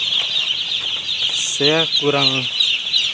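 Broiler chickens past twenty days old cluck steadily in a poultry house over a constant high-pitched hum, with a burst of louder harmonic calls near the middle and someone speaking briefly.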